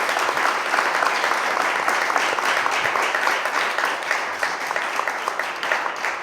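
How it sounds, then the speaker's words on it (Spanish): Sustained applause from an audience at a book presentation, dense and steady throughout with no speech over it. "Pues si les parece, un aplauso para Salva Rubio."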